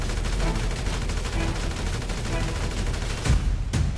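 Rapid automatic gunfire in GTA 5 as a full magazine is emptied, a dense continuous burst of loud shots running nearly four seconds, with a couple of heavier cracks near the end.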